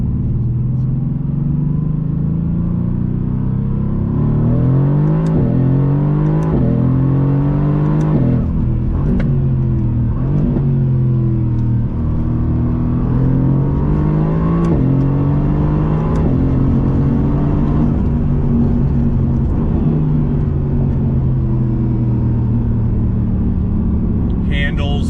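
A 2019 Mercedes-AMG GT R accelerates hard along a twisty road, its engine rising and falling through repeated loud, close revs and gear changes.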